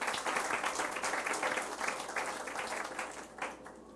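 A church congregation applauds during a Sunday sermon, with a steady crowd of hand claps running continuously at moderate loudness and fading slightly toward the end.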